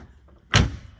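A swapped-in door on a 1984 C4 Corvette shutting with a single solid thud, close and loud, after a faint mechanical rustle.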